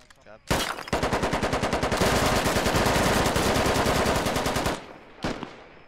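Sustained rapid automatic gunfire in the tactical shooter game Squad, a loud, dense burst of rounds lasting several seconds, followed by a brief pause and one more short shot.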